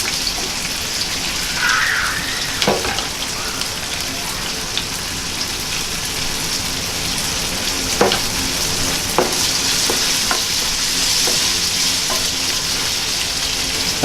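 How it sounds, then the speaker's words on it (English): Shallots brown in a pan for pad thai, giving a steady, close sizzle with occasional sharp pops and crackles throughout, and no talk over it. "get that shallot, the sugars coming out, getting them browned"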